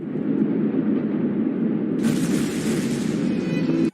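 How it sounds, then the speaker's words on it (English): Beirut port explosion: a loud, continuous roar that suddenly breaks into a harsher, wider blast partway through, then cuts off. "Blasts that shook a city and injured thousands."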